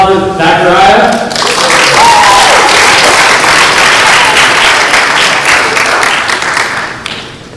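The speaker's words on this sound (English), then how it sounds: "Another round of applause for Zachariah." Sustained audience applause fills a school auditorium at a speech and debate event, dense steady clapping from a crowd that holds loud for several seconds before tapering off at the end.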